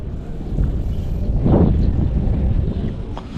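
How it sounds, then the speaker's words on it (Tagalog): Wind gusts over the rooftop of a pigeon loft, buffeting the microphone with a low, steady roar that swells into a louder gust midway through. "Sarap ng hangin."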